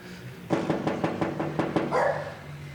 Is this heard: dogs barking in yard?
yes